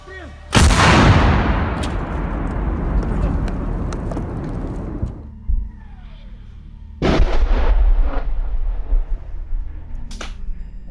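A huge, close artillery explosion near Bakhmut booms and rumbles for several seconds, followed by a second blast and scattered sharp bangs of shelling.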